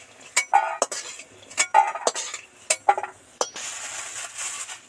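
Fried lentil dumplings are scooped out of hot oil in a pan with a metal utensil, producing a run of sharp, close clinks and scrapes against the pan, followed by a soft hiss of oil at the end.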